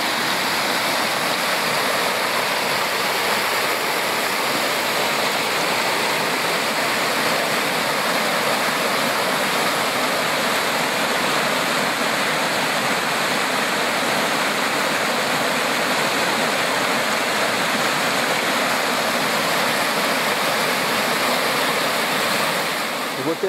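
The Antônio Monteiro waterfall in Pocinhos do Rio roars loud and steady, a dense unbroken rush of falling water close by throughout, with no voices over it.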